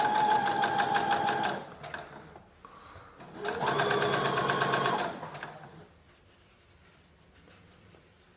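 Sewing machine stitching a shirt collar, running in two loud, steady bursts of rapid stitching separated by a brief pause, then stopping and leaving quiet room noise.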